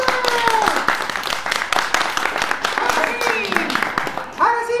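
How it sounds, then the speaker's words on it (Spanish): Audience clapping and applause at a live comedy stage show, loud and continuous for several seconds, with shouting voices over it. "¡Un aplauso!"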